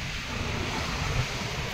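Sea waves and wind roar continuously beside a coastal road between Somnath and Dwarka, a dense, even wash of surf and wind noise with no voices.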